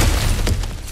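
Rocky ground crumbling and smashing apart in God of War Ragnarok, a loud crunching break with low rumble and scattered debris bursts that fade over about a second.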